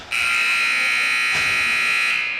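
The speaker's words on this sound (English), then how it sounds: "Buzzer sounds, and first lines are back out on the ice now." A loud, sustained electronic buzzer blares steadily for a couple of seconds in a hockey arena during a girls' hockey game, harsh and tonal, filling the space.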